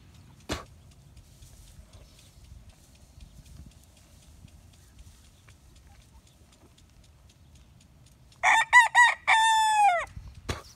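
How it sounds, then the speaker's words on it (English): Chickens startled by a hawk burst into a few loud, close squawks and a drawn-out alarmed call near the end, after a long stretch of quiet outdoor background with one sharp knock early on. "Freaking hawk just scared the chickens past me."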